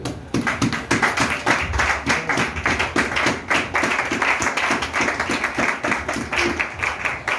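Church congregation clapping steadily in a fast rhythmic beat at a French-language worship gathering, dense and close, with scattered cheers and voices mixed in throughout.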